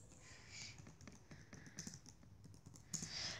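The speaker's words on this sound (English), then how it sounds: "Guys, if you hear typing in the background," Soft, quick taps of typing on a computer keyboard in the background, irregular and faint, with no talking.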